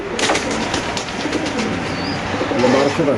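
Many pigeons coo and flutter at a busy pigeon market, a close, continuous throaty burble with a few higher chirps, while voices talk nearby over the birds.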